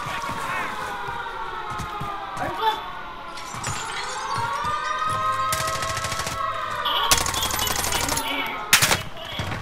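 Automatic gunfire rattles in bursts through a Call of Duty Warzone match, several loud volleys cutting over a steady siren-like tone and game ambience, with a player talking throughout.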